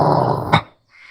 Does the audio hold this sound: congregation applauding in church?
no